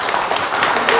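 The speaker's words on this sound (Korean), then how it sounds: "이때 박수 한번 칠까요?" An audience at a lecture gives a short, dense burst of clapping, loud and close.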